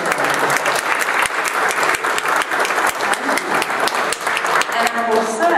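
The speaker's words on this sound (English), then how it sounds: "I think we owe another big round of applause to our speakers." Conference audience applauds the speakers after a talk on fracking for hydrocarbons in North Carolina, dense, loud clapping sustained for several seconds, with a voice speaking over it.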